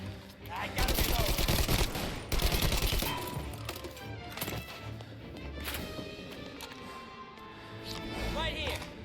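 Gunfire in the Mafia video game, dense bursts of rapid automatic shots and heavy single cracks, loud and close, with voices speaking over parts of it.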